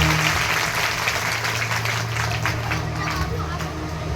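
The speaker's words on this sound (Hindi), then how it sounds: "तो एक बार जोरदार ताली बजाओ भैया।" An audience at a Shiv Mahapuran religious discourse breaks into loud, sustained clapping, a dense roar of many hands filling the hall, with voices mixed in.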